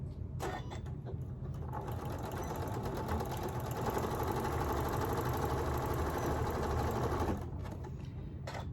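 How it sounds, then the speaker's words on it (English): A sewing machine stitches the ear of a stuffed elephant, whirring in a steady, rapid mechanical run for several seconds, close and alone, with short starts and stops at either end. "and then I am going to stitch it down"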